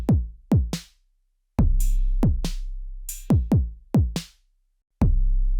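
An Elektron Syntakt drum machine plays a sparse electronic beat of deep booming kicks and crisp hits in a repeating pattern, with pauses between phrases.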